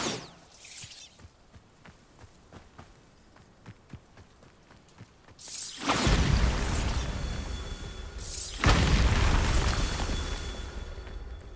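A Bombarda spell explodes in Hogwarts Legacy, two heavy, loud blasts a few seconds apart, each with a deep boom and a long crumbling, rumbling tail, following a quieter stretch of light footsteps and game ambience.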